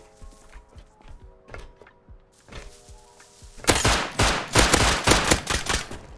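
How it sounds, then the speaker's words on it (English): Rapid bursts of nail gun fire in the video game Rust, sharp repeated clicks that build into a dense, loud volley in the second half after quieter scattered shots and footsteps. "Damn, a nail gun."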